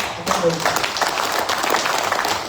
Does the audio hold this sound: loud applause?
yes